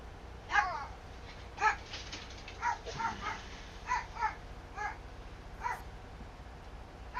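Farm dogs in Farming Simulator 22 bark in a string of short, evenly spaced yelps, moderately loud over a steady hum of game ambience, with no talk.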